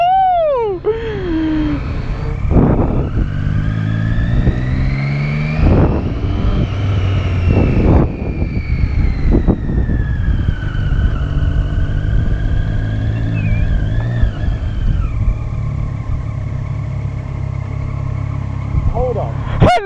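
A Triumph Street Triple 675R motorbike engine runs loud and close while riding, its pitch rising and falling through gear changes, with a rider talking over it.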